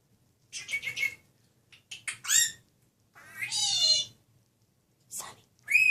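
A pet bird gives a run of sharp, raspy squawks and chattering calls in short bursts separated by quiet gaps, close and clear indoors.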